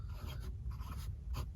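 A Pelikan M600 Tortoiseshell Red fountain pen with an italic grind nib writes on paper, its soft, close scratching strokes coming in short bursts with no speech.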